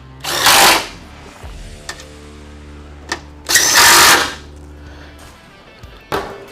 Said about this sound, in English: So for the front bolts, we're just going to use our impact here.